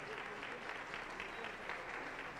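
A church congregation claps steadily in sustained applause, a dense even patter of many hands filling the short stretch.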